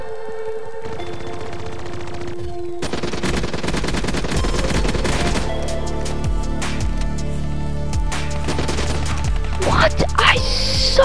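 Continuous automatic gunfire and explosions in Black Ops 3 free-for-all multiplayer, a dense, loud barrage lasting several seconds over game music, with voices faintly underneath.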